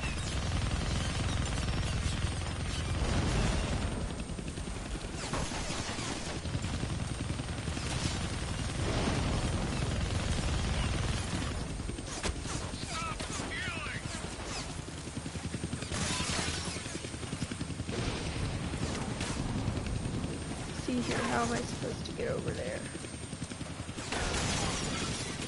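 Chaotic helicopter attack in the Deadpool video game: dense, loud bursts of gunfire and mechanical clatter over a steady rotor-like rumble throughout, with explosive crashes and shattering hits.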